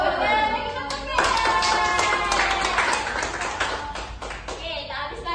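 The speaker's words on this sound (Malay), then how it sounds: "Bagi tepuk tangan." Children in a classroom clap their hands, a burst of close, sharp claps over lively young voices and chatter, thinning out toward the end.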